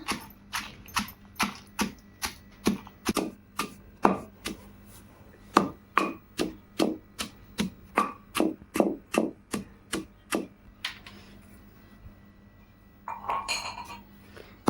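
Dry red chillies are pounded in a stone mortar for peanut chutney: about twenty even, close thuds in a steady rhythm, then a pause and a brief rustle of handling at the end.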